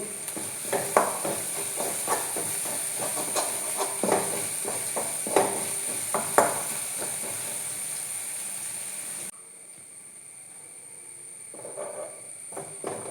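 Garlic and shallots sizzle in frying oil with a steady bright hiss, small crackles and stirring clatter, then the sizzle drops to a quieter simmer near the end.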